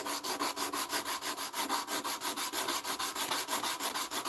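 Sandpaper rubs back and forth across a wooden piece by hand, a loud close rasping stroke repeating about six times a second in an even steady rhythm, with no voices.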